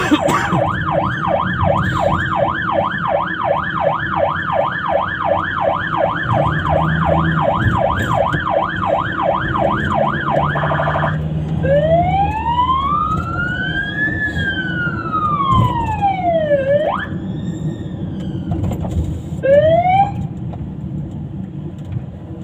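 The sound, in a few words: ambulance sirens in convoy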